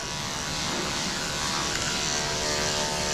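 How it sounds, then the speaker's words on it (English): A blow dryer runs at a steady, loud whir during grooming of a Portuguese Water Dog, an unbroken airy buzz filling the whole stretch. "I hate that blow dryer is going right now."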